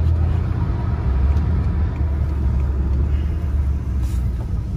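A 700-horsepower car cruises gently on a closed road, its engine a loud, steady low rumble with road noise, heard from inside the car.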